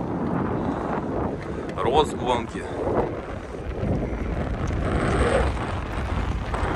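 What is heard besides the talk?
wind blowing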